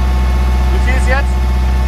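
The engine of a Case tractor on a fruit farm drones at full throttle to drive an irrigation pump, a loud steady mechanical hum under brief speech.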